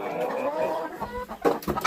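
A broody hen in a summer farmyard clucks close by, a low continuous grumbling followed by several short sharp clucks toward the end.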